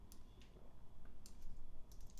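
Quiet keystrokes on a computer keyboard come in a few short bursts of clicks over a low steady background hum, with no one talking.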